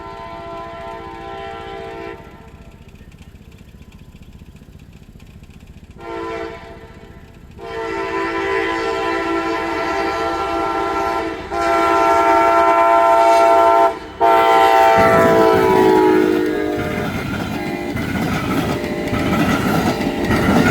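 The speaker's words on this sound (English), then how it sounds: "First catch is Amtrak Train 352 heading north on the Michigan Line." Amtrak Train 352, a passenger train heading north on the Michigan Line at the Michigan City diamonds, approaches and rolls past with a loud, sustained horn blast, wheels rumbling steadily as it goes by close at hand.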